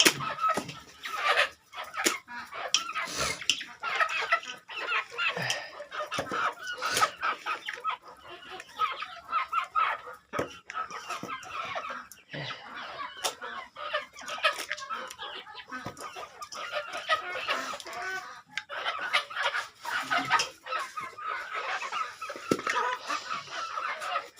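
A flock of farm chickens, large and small together, clucking busily while eating from a tray, a dense, continuous chatter of overlapping calls close at hand with sharp pecking clicks.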